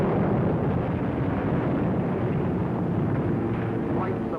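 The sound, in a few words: bombs exploding on Rotterdam in 1943 documentary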